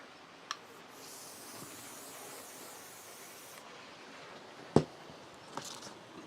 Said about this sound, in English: So just give it a spray away from all of this